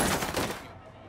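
Gunfire in Cyberpunk 2077 erupts as a loud, dense burst of rapid shots that fades out within about a second.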